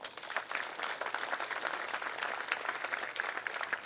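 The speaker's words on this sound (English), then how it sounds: "I really would like to give everybody who participated in this project a very big round of applause, please" An audience at a STEAM education center dedication ceremony gives a round of applause, a soft, even patter of many hands heard from some distance and holding steady throughout.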